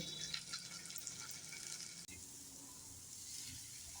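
Chopped onion frying in hot oil with cumin for an egg yolk keema curry, a steady close sizzle with faint watery crackle that runs the whole stretch with no talk.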